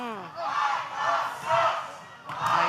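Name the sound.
wrestling arena crowd cheering and chanting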